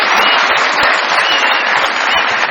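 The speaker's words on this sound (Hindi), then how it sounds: "बहुत सारी तालियां मेरे मेहमानों के लिए।" Studio audience at a Pakistani TV comedy show breaks into loud, sustained applause for the guests, dense clapping filling the whole stretch without a pause.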